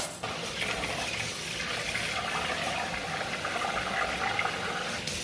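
Water pours steadily over raw rice in a home kitchen while onigiri are being made, a continuous close splashing rush lasting several seconds with no talk over it.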